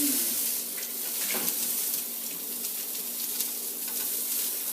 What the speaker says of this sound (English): I like to think that the sizzle is the hot dogs screaming because you're cooking them